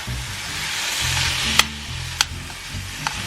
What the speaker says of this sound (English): Now I'm going to cook off some of the moisture.